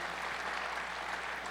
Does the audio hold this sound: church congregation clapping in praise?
yes